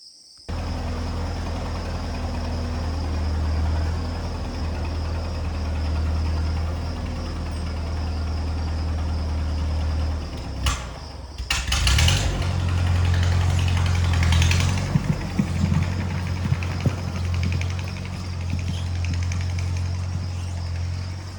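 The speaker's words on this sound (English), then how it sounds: "we're going to tug it out with the tractor" A heavy tractor engine runs steadily in a low, continuous drone, close by, with a brief rattling disturbance partway through before settling again.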